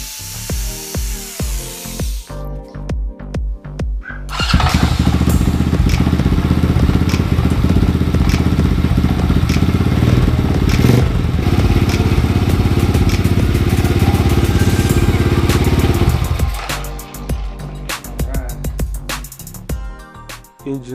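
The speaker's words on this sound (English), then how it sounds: "Engine fired right up and seems to be working just fine." A 125cc go-kart engine fires and runs loud and steady for about twelve seconds after a stretch of workshop clatter, then cuts out, leaving lighter tapping and handling noises.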